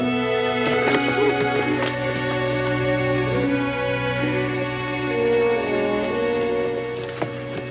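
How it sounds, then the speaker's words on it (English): Horse hooves clip-clopping as riders set off in an old western film, rhythmic hoofbeats under a loud, sustained orchestral score. "Now, climb on your horse."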